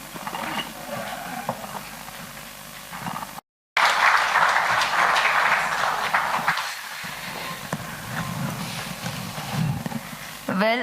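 An audience at a short-film screening event claps as the artists are called onto the stage: a dense, sustained round of applause after a brief cut, thinning toward the end.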